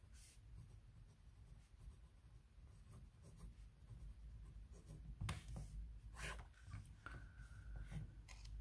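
A TWSBI Go fountain pen with a fine nib writes across paper in a quiet room: soft, faint scratching strokes, steady with brief pauses, heard alone.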